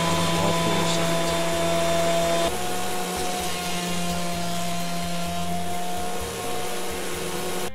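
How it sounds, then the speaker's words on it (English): A wood planer runs continuously on glued-up maple and oak stock, giving a loud, steady machine roar with a sustained high whine and a low motor hum that shifts slightly in pitch partway through. "once it's completely dry, I send it through the planer on all 4 sides"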